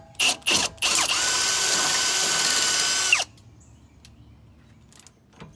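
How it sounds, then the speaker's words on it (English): A power drill bores a 7/16 hole through a steel Panhard bar bracket on a Mustang rear axle, starting with a few short trigger bursts and then a sustained, loud whine of about two seconds before it stops and leaves quiet. "use a series of drill bits to make the 7/16 hole needed"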